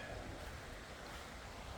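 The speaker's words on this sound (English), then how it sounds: "There's a river right here." River water flows beside a bridge at a graffiti-marked roadside spot, giving a steady, close broadband rush with no voices.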